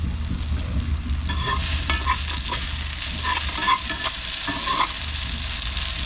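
Tortang talong, an eggplant omelette with egg, frying in a small amount of oil, a loud close crackling sizzle with stirring scrapes and pops, no voices.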